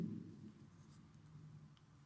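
Pen scratching on paper while an accounting narration is written out, a faint, soft, continuous scribble close by with no talk.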